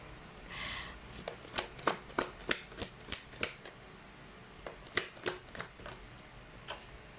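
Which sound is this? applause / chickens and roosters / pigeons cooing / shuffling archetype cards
shuffling archetype cards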